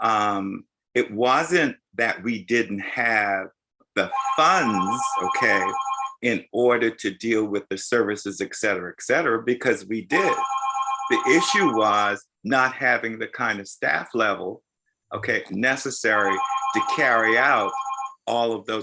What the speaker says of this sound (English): sorry for the phone, guys, that's the other phone